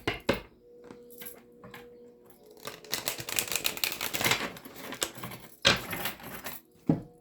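A Divine Celestial Tarot deck being shuffled close up: bursts of dense papery riffling and crisp clicks, with a few quiet pauses between shuffles.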